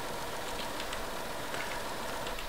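A T-150 tractor engine in Farming Simulator 19 gives a steady, rough mechanical hum with faint knocking, even and fairly quiet throughout with no voices.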